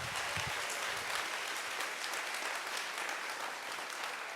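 Audience applause for a newly announced awareness and inclusion team at an opening-day event, steady and broad with dense clapping throughout and a brief fuller patch near the start, fairly quiet and distant.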